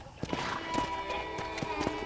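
Saddled horses clip-clop in the Red Dead Redemption video game, a steady run of hoof knocks under a background hum, with a voice talking alongside.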